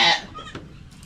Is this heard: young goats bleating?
yes